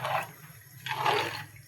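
Water splashes into a pot while khichdi cooks, sounding as two brief gushing pours close by, separated by a short pause, over a low steady hum.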